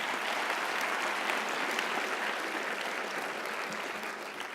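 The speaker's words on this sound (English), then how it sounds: "that's worth applause" Sustained applause from a commencement audience at a 2018 engineering school graduation, a dense, steady wash of many hands clapping that holds evenly and eases slightly toward the end.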